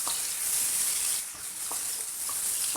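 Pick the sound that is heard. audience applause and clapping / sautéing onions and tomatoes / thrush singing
sautéing onions and tomatoes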